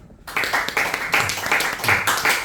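A church congregation claps for a visiting pastor, a loud burst of applause starting suddenly after a moment of quiet and continuing in uneven surges.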